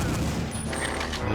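Explosions and gunfire in the video game Perfect Dark, heard as a dense, continuous roar of blasts and rapid shots filling the whole moment at steady loudness.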